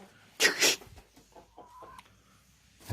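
A rooster in a backyard henhouse gives a loud burst of clucking near the start, followed by softer intermittent clucks and low calls in a quiet coop.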